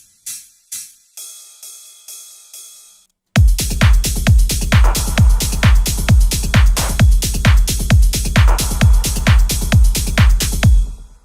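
A panned shaker taps out a few sparse hits before a full techno percussion loop crashes in, with a punchy repeating kick, shaker and ride cymbal driving in a steady four-on-the-floor groove, loud and close.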